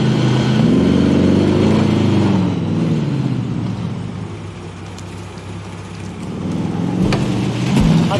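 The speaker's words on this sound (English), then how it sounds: "Light vehicle here. I'll drive." A light vehicle engine in Call of Duty: Warzone Pacific drones and revs loudly up close, easing down midway and climbing again toward the end.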